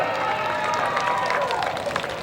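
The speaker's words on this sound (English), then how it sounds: "Let's take another big round of applause, Byron Reed" A grandstand crowd at a sprint car race in Orrville, Ohio applauds a driver with steady distant clapping and light cheering, while a voice carries faintly over it.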